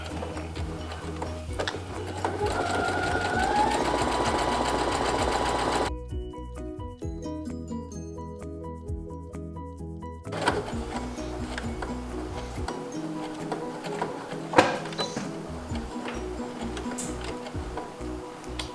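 A sewing machine backstitches the pocket of a dress, giving a fast, close mechanical ticking that runs steadily, stops for a few seconds, then resumes in shorter bursts.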